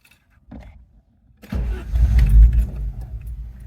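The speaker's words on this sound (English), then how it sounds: "Listen how quickly this thing starts up." An Audi four-cylinder with CIS fuel injection and a few faint clicks beforehand cranks briefly and catches at once, settling into a loud, close, rumbling idle.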